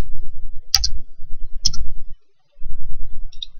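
A computer mouse clicks in Microsoft Access, making two sharp, close clicks about a second apart and a fainter tick near the end, set against a low hum that drops out briefly.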